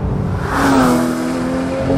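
The 3.8-litre direct-injection flat-six of a 991-generation Porsche 911 GT3 pulls hard on the move. The engine note is loud and steady and rises in pitch as it accelerates, heard alone without talk.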